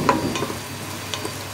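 Onions sautéing for a homemade tuna and cabbage dish give a steady close sizzle, with a few brief stirring scrapes near the start and no voices.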